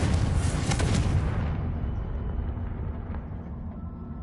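The Confringo explosive spell in Hogwarts Legacy bursts in a loud, bright boom that rolls into a low rumbling decay over a few seconds.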